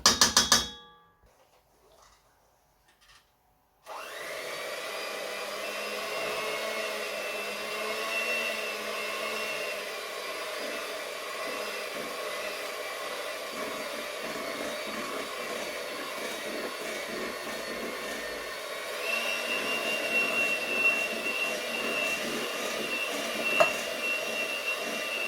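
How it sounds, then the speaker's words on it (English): An electric hand food mixer beats an extra egg into sponge pudding batter in a home kitchen, a steady close whirring drone that starts abruptly after a brief clatter and runs continuously, rising slightly in pitch toward the end. "I'll just get the food mixer again and mix that egg in."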